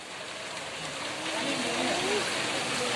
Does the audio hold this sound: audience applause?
no